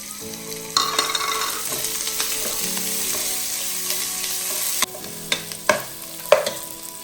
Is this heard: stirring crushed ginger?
yes